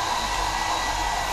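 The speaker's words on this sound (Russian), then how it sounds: "фен," A hair dryer runs steadily in a hotel room, a constant loud whoosh with no talking, holding level for about a second and a half.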